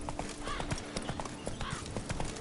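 Roach, the horse in The Witcher 3, gallops in a quick, even rhythm of hoofbeats, close and clear, with faint game ambience underneath.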